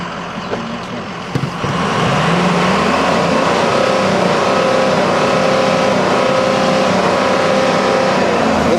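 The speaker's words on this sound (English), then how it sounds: "And you can hear it sounds great. It just sounds great. I'll even rev it." A car engine idles, then rises into a sustained, loud rev that holds at a steady high drone, heard close with no talk.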